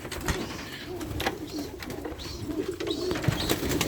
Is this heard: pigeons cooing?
yes